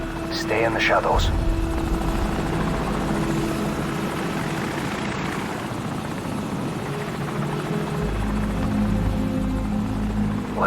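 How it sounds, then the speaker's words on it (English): An enemy helicopter passes overhead in the Call of Duty 4: Modern Warfare campaign, a loud, steady rotor drone filling the scene, with brief game sounds near the start and a rise at the end. "Enemy helicopter! Get down! Stay in the shadows."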